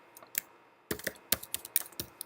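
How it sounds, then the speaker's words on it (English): Typing on a computer keyboard while entering a figure caption in a document, with a brief pause and then a quick, uneven run of crisp, close key clicks. "you click in it and you begin to type"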